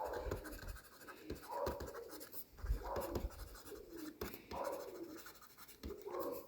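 A pen writes on paper in short bursts of scratchy strokes with brief pauses between them, close and fairly quiet.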